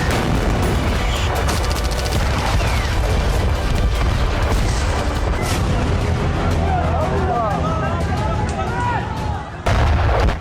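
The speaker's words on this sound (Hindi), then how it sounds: "राफा में हर तरफ धमाकों की आवाज गूंज रही है।" Explosions and tank shelling in Rafah during an Israeli assault: loud, dense rumbling booms and blasts packed together almost continuously, with indistinct voices mixed underneath.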